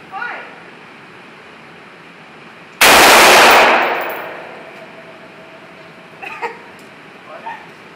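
A single gunshot at an outdoor shooting range, a loud, close blast that rings out and decays over a second or two, followed by faint metallic pings, with people talking before and after.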